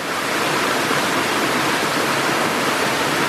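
High waterfall in the Serra da Ponte Nova hills of Palmeiras de Goiás, a loud, steady roar of falling water filling the air without pause.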